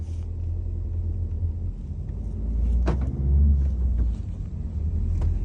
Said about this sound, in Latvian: es spiežu gāzes pedāli, motoram apgriezienu ceļās